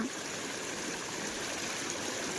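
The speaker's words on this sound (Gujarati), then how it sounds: "ત્યાંથી અનલિમિટેડ પાણી નીકળે છે" Water gushing without pause from a broken pipe during heavy Gujarat rains, a steady broadband rushing roar close by, even and unbroken from start to finish, with no speech.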